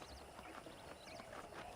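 Faint, quiet clip-clop of a horse's hooves in the Red Dead Redemption video game, a light steady rhythm of hoof strikes over soft background ambience.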